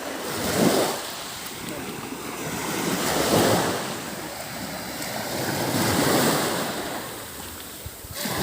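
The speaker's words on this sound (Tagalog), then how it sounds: "napakaganda ng tabing dagat namin." Sea waves roll onto a beach at Pinamalayan, Oriental Mindoro, with three slow swells rising and falling over steady surf and wind noise buffeting the microphone.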